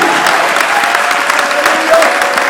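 A church congregation claps and cheers for God during a French-language sermon, a dense, steady wash of applause with scattered shouts filling the room from start to finish.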